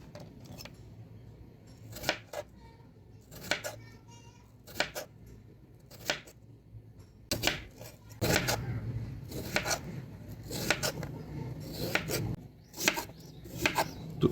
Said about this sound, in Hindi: तो इसी तरह से सारे आलूओं की कटाई हम कर लेंगे।